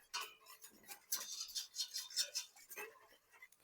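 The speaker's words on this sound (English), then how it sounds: "I'm going to actually whisk this up." A whisk beating beef stroganoff sauce in a bowl, giving quick, close, fairly faint rhythmic clicks and scrapes in short runs, with no talk.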